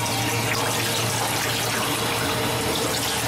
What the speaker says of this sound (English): This is working. You can see water coming out.